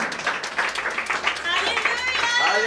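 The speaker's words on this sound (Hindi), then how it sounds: "तालियां, जोरदार तालियां।" Audience clapping in a Christian prayer hall in Indore, a dense wash of many hands that swells and stays strong, with a voice talking over it and some whistle-like tones toward the end.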